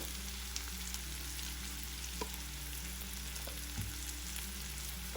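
Chili powder, coriander powder and garam masala fried in a pan for an onion curry, a continuous sizzle with occasional soft scrapes and taps of a stirring spoon, steady and close throughout.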